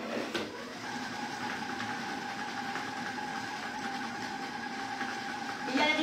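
An All Cook kitchen robot blends at speed 9, a steady close mechanical whir with a constant motor hum running evenly for several seconds without talk.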